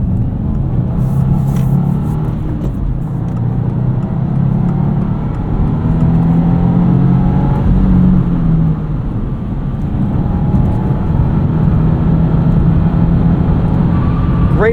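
A 2025 Subaru WRX tS engine pulls hard toward its 6,000 RPM redline, heard from inside the car as a loud, steady rumbling drone with a slowly rising tone throughout.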